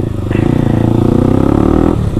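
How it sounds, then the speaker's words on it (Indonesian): A Yamaha WR155R supermoto motorcycle idles with a loud aftermarket exhaust, a close, harsh, rapidly pulsing thump that rises in level and holds for about two seconds. "Sumpah ini motor knalpotnya bacot"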